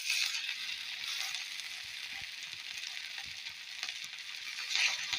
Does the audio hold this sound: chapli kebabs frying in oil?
yes